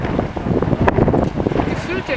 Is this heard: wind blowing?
yes